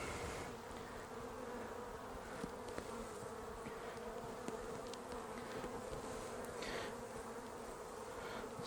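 Honeybees drone steadily around an opened hive during an inspection after three weeks, a dense continuous buzz with occasional louder passes of single bees near the microphone.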